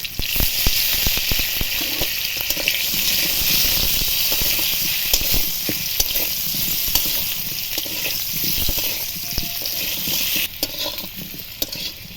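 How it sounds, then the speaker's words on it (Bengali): Cut potatoes fry in hot oil with a pinch of salt, a dense, continuous sizzle and crackle close by with occasional scraping stirs, steady throughout and no talking. "আলুগুলো ভেজে নেব একটুখানি লবণ দেবো"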